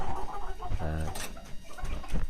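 A fighting rooster clucks and crows briefly amid steady background noise, a short harmonic call standing out from a busy outdoor setting.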